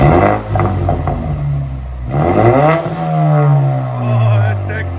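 A Ford Mustang EcoBoost four-cylinder turbo with straight pipes revs up twice through its exhaust, rising to a loud raspy drone and falling back, close by, with people talking over it.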